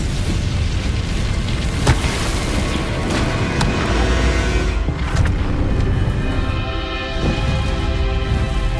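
Incendio fire spells cast in the video game Hogwarts Legacy make loud, continuous rumbling booms and fiery blasts, with sharper bursts standing out near the start and middle.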